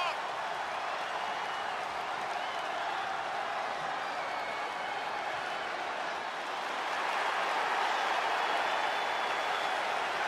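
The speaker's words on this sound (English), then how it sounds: "Listen to this crowd, guys. They're fired up for this one." An NXT wrestling arena crowd cheers and applauds with sustained, dense roaring noise that swells slightly toward the end, filling the space without pause.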